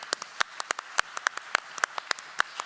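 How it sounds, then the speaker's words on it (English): Sparse, scattered claps from a small seminar audience thanking a speaker, separate sharp hand claps at an irregular rhythm rather than full applause. "Please give Andrew a round of applause"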